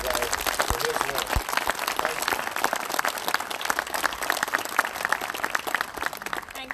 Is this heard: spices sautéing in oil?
no